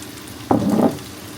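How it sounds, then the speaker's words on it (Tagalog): Tomatoes hit a hot pan for sautéing in a Filipino monggo dish, producing one brief burst of sizzling and frying that quickly settles. "Gusto kong igisang maigi yung kamatis guys"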